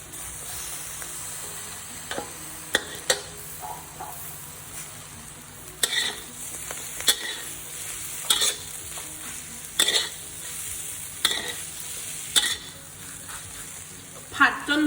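Pork, egg and vegetables stir-fried together in a pan for stir-fried instant noodles, heard as a close, steady sizzle broken by repeated spatula scrapes and knocks, with no talking.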